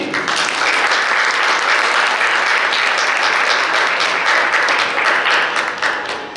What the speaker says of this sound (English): I would like all of you to applaud for them